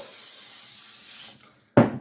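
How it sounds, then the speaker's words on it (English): A steady canola oil spray hiss into a bowl runs for over a second, stops, then a short louder burst of spraying follows after a brief pause. "use some canola oil spray and spray the bowl"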